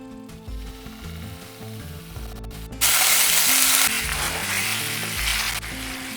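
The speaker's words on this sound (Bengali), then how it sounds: "তিরিশ থেকে 40 সেকেন্ডের মতন এটাকে ভাজা ভাজা করে নিয়েছি" Ginger paste hitting hot oil with a sudden loud sizzle that swells partway through and then holds steady, mixed with ongoing background music.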